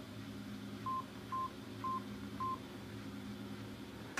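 Four evenly spaced telephone keypad tones sound as a number is dialed, each a short clean beep over a steady low hum with no talking.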